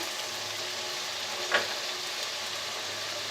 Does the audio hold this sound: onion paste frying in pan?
yes